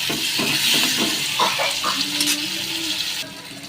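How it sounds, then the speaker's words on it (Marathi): Chopped tomato and onion hit hot oil for a Maharashtrian dry brinjal curry, giving a steady, loud, close sizzle with a few brief clinks of stirring. "तेल गरम झालेलं आहे आता आपण त्यामध्ये बारीक केलेला टोमॅटो आणि बारीक केलेला कांदा टाकून घेऊयात"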